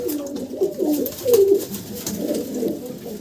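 A pair of domestic pigeons coos in soft, low, throaty phrases, close by and repeated several times over a faint background murmur.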